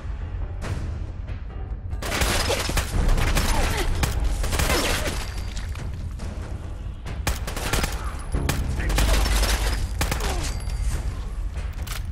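Heavy gunfire from big guns in the video game Fallout 4, loud sustained bursts of rapid automatic shots and booming blasts, nearly continuous with brief lulls between volleys.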